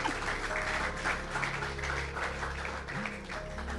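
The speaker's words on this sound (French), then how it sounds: "tu peux t'applaudir" A church congregation claps at a sermon gathering, an even stretch of moderately distant applause lasting a few seconds, with a low hum running beneath it.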